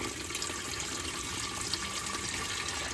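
Water pouring out of the flooded oil pan of a Cummins engine in a 1959 Dodge Coronet project, a steady close splattering trickle that runs continuously without a break.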